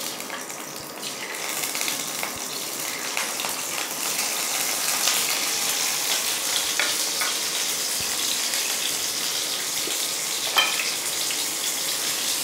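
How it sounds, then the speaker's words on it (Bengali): Eggs frying in white oil in a pan for a Mughlai-style egg rezala, giving a steady, even sizzle and crackle that holds at a constant level throughout, with faint clicks of the pan now and then. "এবারে হালকা করে ভেজে নেবো।"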